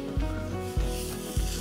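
Harvested rice stalks are twisted by hand in a paddy during the rice harvest, making three evenly spaced rustling, rubbing pulses close up over a steady low background hum.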